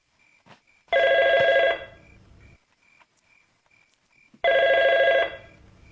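A telephone rings in two long trilling bursts separated by a quiet pause, with faint background noise and soft clicks between rings.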